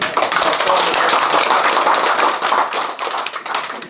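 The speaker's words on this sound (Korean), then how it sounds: "우리 공무원들께 좀 박수 한번 쳐드릴게요" Residents at a village meeting with the city mayor clap for local officials, a brisk crowded patter of hands close by, loud and dense, thinning into looser scattered claps near the end.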